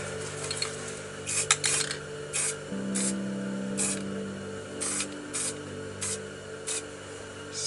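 Spray paint mists over a stencil in a series of short hissing bursts, about a dozen quick spurts in an irregular rhythm, up close against a low background hum.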